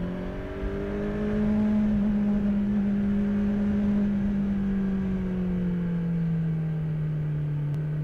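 A 2018 Kawasaki Z900 motorcycle engine holds a steady, fairly mellow tone with a smooth held pitch that dips slightly toward the end, recorded close with no talking.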